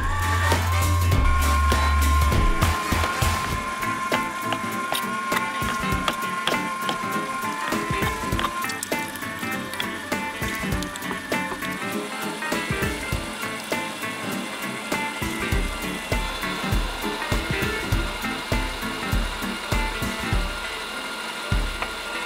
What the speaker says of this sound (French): Allez, on commence à hacher.